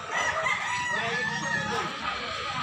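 Rooster crowing close by on a farm in Consolacion, Cebu, one long loud drawn-out call filling the moment, with a faint voice underneath.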